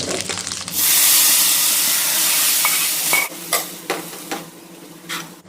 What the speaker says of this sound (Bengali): রসুন লাল লাল করে ভাজা হয়ে গেছে, এবার আমি এতে দিয়ে দেবো ডাল